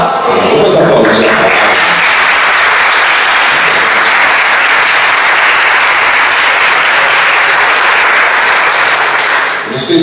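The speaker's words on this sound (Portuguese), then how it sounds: "Vamos aplaudir." A church congregation claps steadily and loudly for about ten seconds, a dense, even wash of applause close by with a voice briefly audible at the start.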